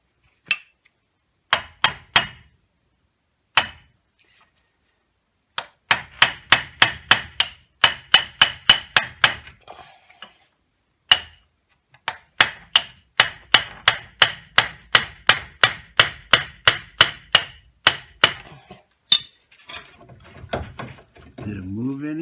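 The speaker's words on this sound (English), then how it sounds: "Ball peen hammer and another hammer." Ball peen hammer and a second hammer striking metal on a Ford Escape wheel bearing and knuckle job, loud sharp ringing clangs in rapid bursts of repeated blows with short pauses, people talking briefly between strikes.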